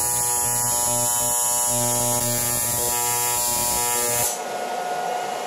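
TIG welding torch arc on an engine build, a steady electric buzz and hum that runs continuously, then drops off abruptly near the end, leaving a fainter hiss.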